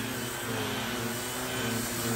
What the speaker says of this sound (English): It doesn't slow down when I'm trying to vacuum it